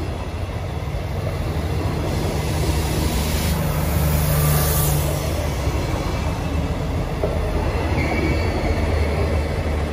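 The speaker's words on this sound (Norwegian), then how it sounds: "Da kommer et tog som ikke står på ruteplanen." An unscheduled train rolls past on a Norwegian line, a loud, steady rumble of wagons with faint wheel squeal that lasts the whole stretch, with no one speaking.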